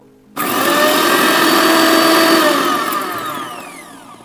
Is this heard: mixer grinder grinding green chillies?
yes